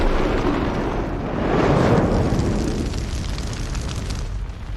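A boiler room explosion in the film Doctor Sleep, a loud, sustained roaring blast with heavy rumbling that swells and then slowly fades, no talk.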